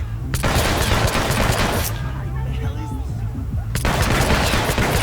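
Gunfire in Hitman: Absolution, dense bursts of rapid shots filling the first two seconds, a brief lull with a voice, then loud sustained firing resuming near the end.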